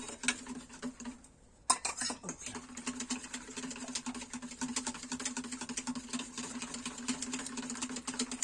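Sugar and flour stirred together in a bowl for a Limousin-style cherry clafoutis tart, heard as a steady scraping, clinking patter of utensil against the bowl, close and moderately loud, with a steady hum underneath.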